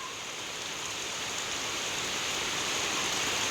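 Heavy rain falls during a storm, a dense, steady hiss of water that holds evenly loud for the whole stretch, with no voices over it.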